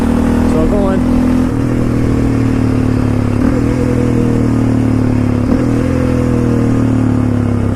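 A clutch-equipped quad ATV runs in second gear, its engine droning loud and close at a steady pitch with a few small throttle dips, while someone talks over it.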